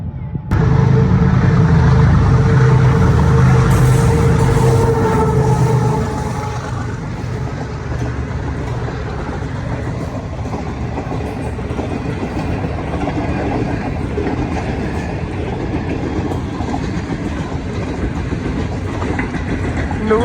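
A passenger train rolls past, loud and near at first with a heavy rumble, then easing into a steady clattering roar of wagons that continues to the end.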